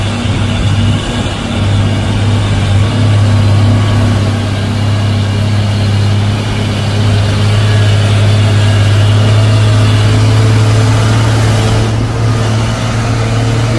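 A 6x4 HD 220 PS palm oil truck sits with its heavy diesel engine idling at the foot of the steep Bukit Kodok climb, a steady, loud, low rumble holding unbroken throughout.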